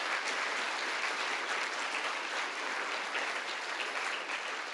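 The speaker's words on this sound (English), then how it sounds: "I just want one more round of applause," A county address audience breaks into sustained applause, a dense, even wash of many hands clapping at full strength throughout.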